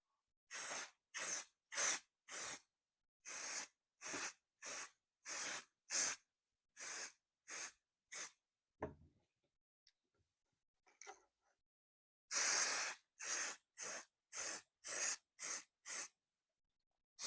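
Spray paint hisses onto a Tamiya TT01e RC car body shell in a series of short, even, close puffs, one run of about a dozen, a pause with small shuffling, then another quick run.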